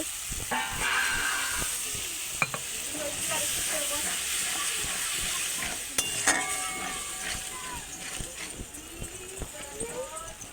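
Water goes into a pan of sizzling turmeric and chili powder masala for a potato and pointed gourd curry, producing a hissing, steamy sizzle with stirring clinks, while a voice talks over it.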